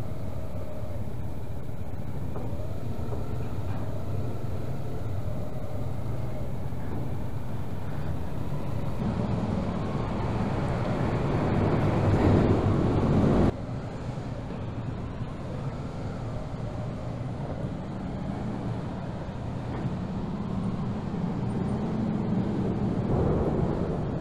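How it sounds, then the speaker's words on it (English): A steady, loud low rumble fills a ferry's lower level as vehicles drive across the deck overhead, droning continuously with shifting swells and a heavier surge partway through. "It's loud with all them vehicles going above us."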